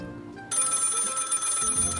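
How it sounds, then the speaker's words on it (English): Telephone ringing in the video game Lil' Guardsman, a sustained electronic ring that starts abruptly after a short quiet lead-in, with soft game music beneath. "Let's see who's ringing."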